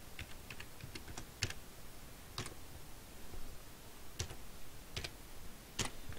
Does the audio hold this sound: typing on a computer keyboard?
yes